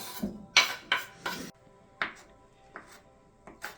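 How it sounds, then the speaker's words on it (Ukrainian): A kitchen knife chops salad ingredients for a Ukrainian Bandera salad on a cutting board: about eight sharp, uneven chops in a loose rhythm, close by and fairly loud with quiet gaps between them and no talk. "Під чуйним керівництвом коханої дружини продовжуємо нарізати салат"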